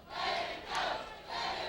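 A wrestling crowd at an NWA Wildside hardcore title match roars in steady waves, loud cheering and shouting that swells three times across the moment with no voice standing out.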